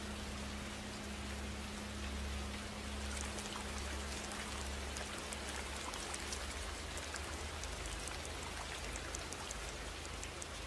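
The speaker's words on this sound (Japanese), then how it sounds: "この雨やむかな。" Steady rain falls throughout, an even wash of dense, close drops with a faint low hum beneath and no voices.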